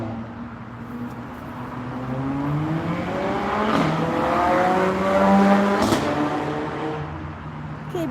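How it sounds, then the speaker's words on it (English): A car engine revs up and down repeatedly, its pitch sweeping and climbing in rising surges, moderately loud and heard without talk. "A car that revs loud and backfires"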